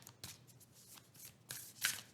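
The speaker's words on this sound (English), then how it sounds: "I like to shuffle my cards and I let them flip" Playing cards are shuffled in several quick riffling bursts, soft and close, with a sharper flurry near the end and no talking.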